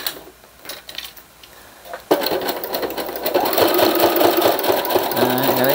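A sewing machine stitching a junk journal storage pouch starts after a couple of seconds of quiet handling, then runs steadily with a close, fast mechanical whirr.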